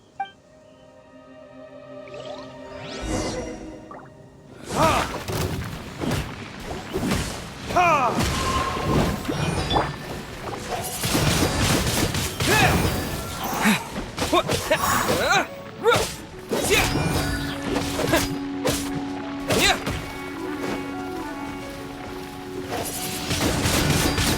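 Game combat against Dendro slimes in Genshin Impact, with loud bursts of booms, crashes and thuds that start after a few seconds and keep coming almost continuously. A steady tone enters in the later part.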